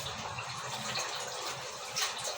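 Water pouring steadily into a mixing container for plaster of Paris blended with cement, a continuous close splashing trickle with no talk.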